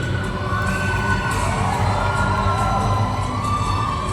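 A dense crowd roars and cheers without a break at the Miss Lao 2019 pageant's final round, with shrill shouts and whoops rising over a loud, continuous wall of noise.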